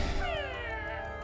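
An anime cat meows once, a clear, sliding mew over a low background hum, close and fairly loud.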